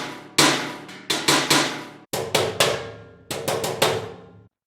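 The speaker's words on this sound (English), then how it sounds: "Trash can." Trash can percussion sample from a drum software instrument: a series of sharp metallic crashing hits with ringing decay, in clusters of two to four evenly spaced strikes, loud and alone.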